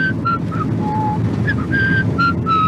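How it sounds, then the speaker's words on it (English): A man whistles a short tune in clear, steady notes over a windy, rumbling outdoor background. "I'll whistle this tune."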